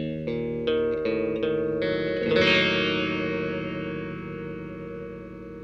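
Guitar run through an EQD Interstellar Orbiter filter pedal, a few plucked notes and a strummed chord swelling into a resonant, swept, effect-soaked wash that slowly fades, quiet and without speech.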